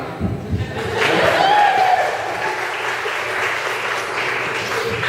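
Wedding guests applauding during a best man speech, a steady wash of many hands clapping in a room that rises after a moment and carries on evenly, with some voices mixed in.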